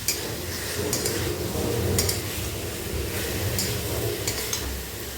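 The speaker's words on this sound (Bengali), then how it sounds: "পটলটাকে দিয়ে এটাকে নেড়ে ছেড়ে নেব কিছুক্ষণ, 5-6 মিনিট" Pointed gourd stirred and fried in a pan for a curd-based curry: a steady close sizzle with a few sharp scrapes and clinks of a spoon against the pan, no talking.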